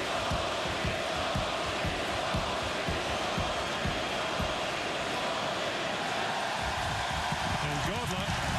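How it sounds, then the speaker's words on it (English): A Toronto hockey arena crowd chants for the goalie, a dense, steady roar of many voices filling the whole stretch with rhythmic thumps and cheers, loud and continuous throughout. "they're chanting goalie, goalie."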